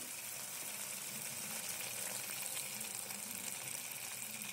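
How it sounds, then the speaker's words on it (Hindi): Hot water being poured into a simmering mushroom paneer gravy in a pan, a faint steady hiss and gush of liquid heard alone throughout. "गर्म पानी ऐड करेंगे।"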